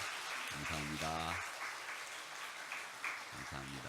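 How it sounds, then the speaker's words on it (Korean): A church congregation applauds during a Wednesday service, a faint steady wash of clapping running throughout while voices talk over it in bursts. "우리 박수 한번 해주세요"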